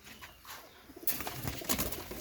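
Pakistani Teddy pigeons cooing in a loft, soft close calls rising and growing busier and louder partway through, with some rustling among the birds.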